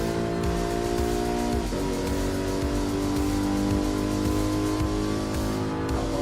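A Ferrari F40 race car engine roars in a Gran Turismo Sport race, a loud sustained droning rev with shifting pitch and a brief gear-change dip, continuous throughout and close.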